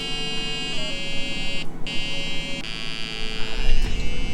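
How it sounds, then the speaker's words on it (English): A handheld spy gadget sends out electronic tones to disrupt a lock's signal, producing loud, steady buzzing pitches that jump to new notes every second or so, with brief gaps between the shifts. "It sends ultrasonic frequencies into the wire system, disrupting the signal, therefore opening the lock"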